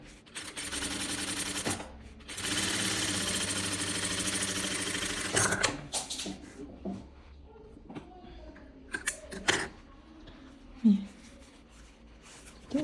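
A sewing machine stitches a seam on wide-leg palazzo trousers in two loud, close bursts of rapid mechanical whirring separated by short pauses. Soft handling clicks and fabric rustles follow as a person talks quietly.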